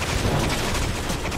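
A short, loud barrage of overlapping gunfire rattles without pause in the video game Resident Evil 6, dense and close.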